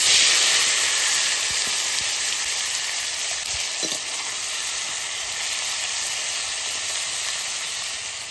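Dried red chillies and nigella seeds sizzle in hot oil in a kadai, a dense, even crackling hiss that holds steady and fades slightly toward the end, with a brief clink partway through.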